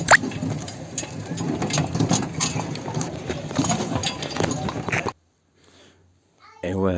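Hooves of a horse pulling a carriage into the old town of Asilah, a rhythmic clip-clop close by under talk and street bustle, stopping abruptly near the end.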